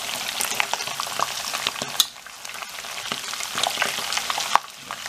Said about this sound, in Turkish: Şu anda bunları böyle fazla kızartırsak tadı kaçar.